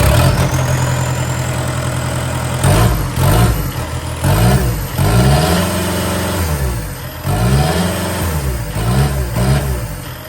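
A Kubota SSV 75 engine with its DPF and EGR deleted idles loudly and close, its steady diesel rumble broken by several short throttle blips that rise and fall through the clip.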